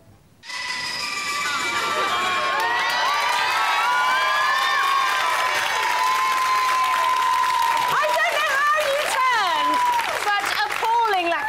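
A large crowd erupts into sustained cheering and applause, loud and dense, with shrill whoops and shouting layered through it for over ten seconds.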